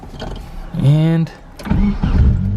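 A car engine cranks and turns over in one short whirring burst lasting about half a second, then catches into a low rumbling idle, heard close up.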